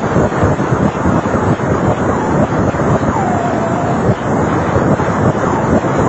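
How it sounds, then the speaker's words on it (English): Black hole X-ray data sonified into audible sound: a loud, continuous, roaring rumble like wind or distant surf, with a faint gliding tone rising and falling partway through, steady throughout with no voices. "here is a sound of an actual black hole, and it's terrifying"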